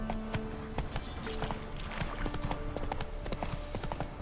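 Horse hooves clip-clop steadily in The Witcher 3 video game as the mount trots along, a continuous rhythmic clatter over a busy game soundscape.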